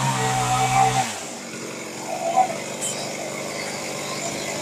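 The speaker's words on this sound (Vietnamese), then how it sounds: "Bây giờ ảnh chuẩn bị cưa cây này." A chainsaw revs and cuts into a coconut tree, a loud droning engine that shifts from a steady pitched whine to rougher cutting noise, up close.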